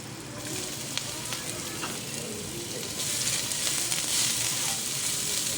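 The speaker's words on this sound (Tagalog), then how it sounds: "iisa lang natin yung aromatic ingredients sa kaunting mantika" Onion and garlic sautéing in a little cooking oil for tinola, a steady close hiss and sizzle that swells slightly louder midway, with faint stirring taps.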